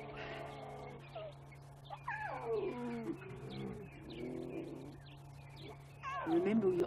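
Big cats roar and call loudly at close range in the wild during a sunrise safari drive, their drawn-out, wavering calls rising and falling over several seconds while a person talks over them.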